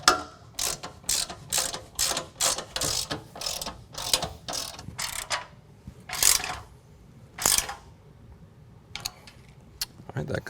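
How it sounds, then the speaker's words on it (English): A ratchet fully tightens M12 bolts on an XOR rear bumper with tire carrier being fitted to a Jeep Wrangler JK. Quick bursts of rapid clicking repeat in a brisk rhythm, then slow to a few separate strokes, close by. "And now we'll just go ahead and fully tighten that."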